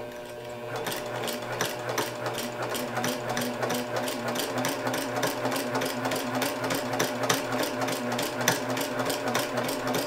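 A sewing machine runs steadily while stitching quilt binding, with a rapid, even needle clatter and mechanical ticking heard up close and alone for about ten seconds.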